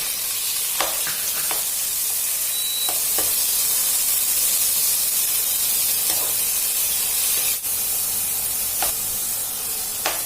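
Chopped garlic, shrimp and pork sizzle loudly in about two tablespoons of hot oil in a wok for stir-fried drunken noodles, a steady dense hiss with occasional clicks of a utensil stirring, no voices.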